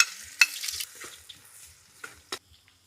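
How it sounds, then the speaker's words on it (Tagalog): Ginger sautéing in very hot cooking oil gives a soft sizzle with a few sharp crackles and spatula scrapes, close and fairly quiet, tapering off between stirs. "Magigisa tayo muna ng luya. Mainit na masyado yung mantika."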